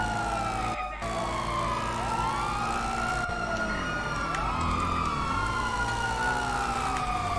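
Several police sirens in a GTA video game wail at once, rising and falling in overlapping sweeps, loud and near, over a constant low engine rumble with no talking.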